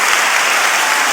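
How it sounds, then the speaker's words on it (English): A crowd applauding at a sports gathering, a steady dense wash of clapping heard alone, loud and close, lasting about a second. "We have applause."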